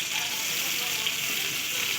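Two medium onions, very finely chopped, sizzle in hot oil with a steady, even crackling hiss that holds at a constant level throughout.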